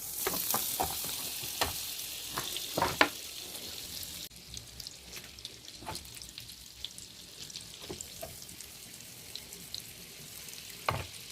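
Butter sizzling and frying in a pan for garlic shrimp, a constant hiss punctuated by sharp crackles and pops, with occasional stirring clinks; the sizzle drops in intensity partway through, then continues more quietly with scattered pops.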